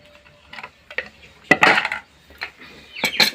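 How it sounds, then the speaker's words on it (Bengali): A potato being cut on a boti blade in a home kitchen: several sharp, crisp slicing strokes, near and fairly loud, in uneven bursts with short pauses between them. "আলুটা আমি বটিতে কেটে নেব।"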